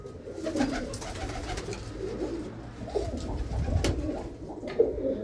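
Pigeons coo in low, throaty, repeated calls that overlap one another at a pigeon-flying competition, with soft rustling and outdoor ambience throughout.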